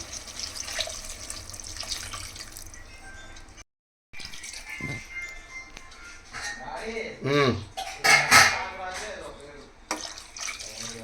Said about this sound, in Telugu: నేనైతే 3 గ్లాసెస్ వాటర్ వేస్తున్నాను.